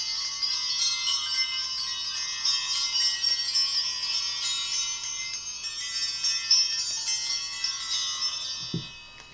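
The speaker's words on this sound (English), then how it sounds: "I want to ring the bells and create some sacred space." Small bells rung to open a tarot reading, a bright, sustained shimmer of ringing and jingling that fades toward the end, soft and alone, followed by a brief low thump.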